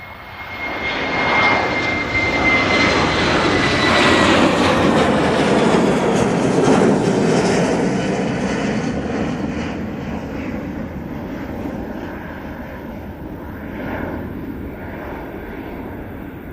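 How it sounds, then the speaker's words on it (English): A Boeing 737 airliner takes off at Manchester Airport, its jet engines swelling into a loud, broad roar that peaks and then slowly fades as the plane climbs away, with no voices. "This one's up for early for a 737."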